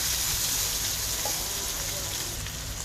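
Half a capsicum sautéing in a pan for vegetable fried rice, a steady close sizzle and hiss filling the clip with no pauses and no talk.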